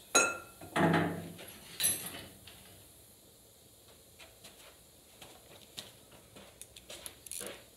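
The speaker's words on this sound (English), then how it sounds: "we need a ratchet, and we need 10mm. 10mm socket." A metal ratchet and 10mm socket being handled: a few sharp metallic clinks and clatters at first, then near silence with faint small taps.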